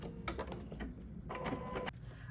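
Embroidery machine stitching a monogram onto a make-up bag, a faint, steady mechanical whirr with rapid needle clatter and small shifting bursts, heard alone at low level.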